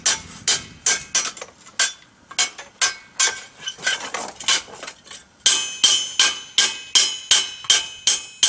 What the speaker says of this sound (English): This is one place where that German style anvil really comes in handy.